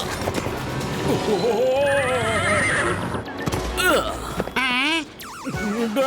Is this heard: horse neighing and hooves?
yes